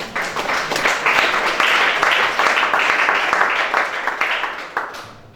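Congregation applauding during a deliverance church service, a dense steady wash of many hands clapping at moderate loudness that fades out at the end.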